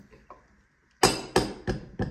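Very hard, stale bread rapped against a surface like a hammer: four loud, sharp knocks in an uneven rhythm, close and alone, after a quiet moment.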